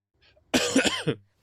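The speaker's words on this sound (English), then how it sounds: "I was coughing" A single close, sharp cough burst with a couple of quick follow-up coughs, preceded by a faint breath.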